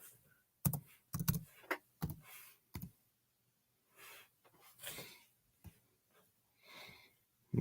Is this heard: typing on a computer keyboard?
yes